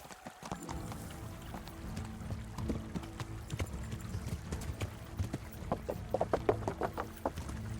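Horse hooves clip-clop in the medieval game Kingdom Come: Deliverance, a continuous quick trotting patter with a low rumbling background, moderately loud, and occasional faint vocal sounds.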